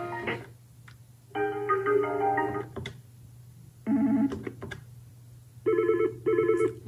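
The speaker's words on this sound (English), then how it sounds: "You can then scroll through the list and pause on a ringtone" Ringtone samples play on a Yealink T46 desk phone: three separate bursts of bright electronic trilling tones with short pauses between them, over a faint steady hum.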